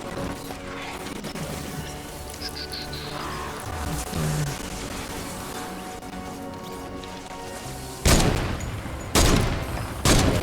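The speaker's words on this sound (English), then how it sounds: "The comforting sound when the obliterators start firing left and right." Obliterator defenders open fire in Fortnite Save the World, producing a dense clatter of shots and impacts over a busy game soundtrack, then three loud, sharp blasts near the end.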